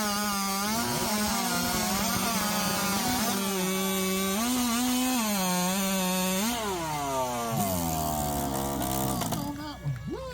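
Chainsaws roar at full throttle, cutting through timber at a chainsaw race in Jackson, Alabama, with Husqvarna, Stihl and Jonsered saws; the engine pitch wavers continuously with load, loud and close, then drops toward idle near the end.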